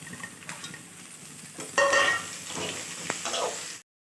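Onions frying with moong dal and curry leaves in a pan make a soft, steady sizzle, with a few light utensil clinks and scrapes and a brief louder burst partway through.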